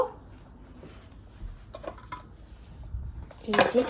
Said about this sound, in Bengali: এখন আমি এটা ঢাকনা দিয়ে ঢেকে দিব